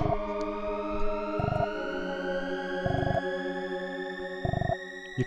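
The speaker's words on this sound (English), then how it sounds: "Clearly hear the sirens in here." Siren tones in a dungeon of the SNES game Terranigma: a sustained, slowly rising synthetic wail layered over a repeating pulsing pattern, steady and fairly loud with no talking.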